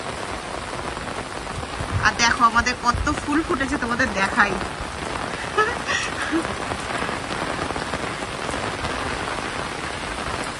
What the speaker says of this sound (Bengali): মানে দমকা হাওয়া আসছে, আর এরকম বৃষ্টি হয়ে যাচ্ছে ঝিরঝির করে